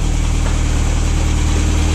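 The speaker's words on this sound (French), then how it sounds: "Elle tient bien le ralenti comme ça là." A warmed-up car engine idles steadily with a low, even rumble and constant hum, close and loud, holding its idle without the cooling fans running.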